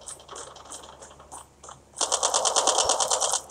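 Call of Duty mobile gunfire: a few scattered shots and clicks, then a loud, rapid burst of automatic fire with evenly spaced shots for over a second.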